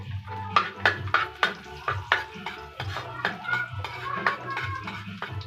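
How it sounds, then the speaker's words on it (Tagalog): Bitter gourd (ampalaya) sautéed in a pan with plenty of garlic, heard as rhythmic, sharp clanks and scrapes of a spatula against the pan, close and repeated, with voices talking in the background. "Mag-igisa na tayo."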